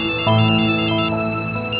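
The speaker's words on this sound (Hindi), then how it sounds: "हौसला फोन कर रहा है।" Mobile phone ringtone for an incoming call, a loud, steady electronic melody of sustained tones lasting under two seconds with no voices.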